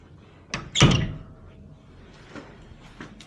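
A hotel room closet door on the 39th floor of the Palazzo hotel swings open with a quick double knock and thunk, moderately close, followed by faint rustling in a quiet room.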